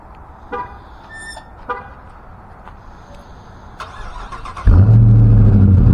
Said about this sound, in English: So we're gonna do a cold start.